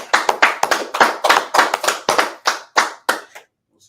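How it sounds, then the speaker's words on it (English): About a dozen sharp, close hand claps from a class, in a quick, slightly uneven rhythm that slows toward the end and then stops. "Go ahead and clap it up."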